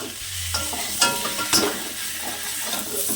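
Bengali taro (maan kochu) and tangra fish curry with turmeric sizzles steadily in a pan while a spatula stirs and scrapes it, producing several distinct scraping strokes over a continuous close frying hiss.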